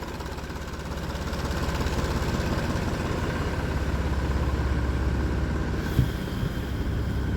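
A tractor hitched to a trolley for hauling sugarcane idles on a foggy early morning, giving a steady, close, low rumbling drone that holds evenly throughout, with a brief clunk near the end.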